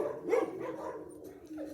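Dog barks a few times at close range, with soft yips and whimpers mixed in, no talk over it, as a male dog is let out among other dogs.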